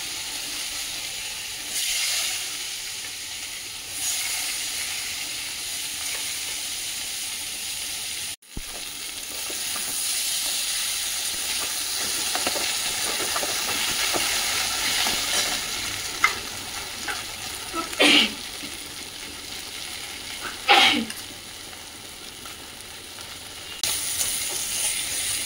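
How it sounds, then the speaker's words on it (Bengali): Vegetable stems fry dry and spicy in a pan, giving a continuous close sizzle with occasional stirring scrapes and a few sharp louder bursts as the pieces are turned. "সবজি ডাঁটার শুকনো ঝাল ঝাল ভাজা হবে"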